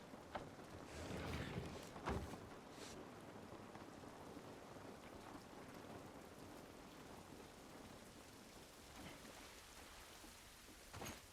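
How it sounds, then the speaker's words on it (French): Steady rain in the video game The Last of Us remake falls throughout, a dense hiss with scattered patters and a low rumble, fairly loud and constant with no voices. "Cette pluie ne va pas nous aider."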